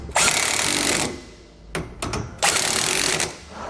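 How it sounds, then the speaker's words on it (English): A power tool with a socket tightens suspension bolts during a Dexter heavy-duty suspension upgrade on a 2021 Grand Design Imagine trailer: two loud close bursts of rattling impact-wrench hammering separated by a pause with a few metallic clicks. "we just need to go back and tighten down our bolts"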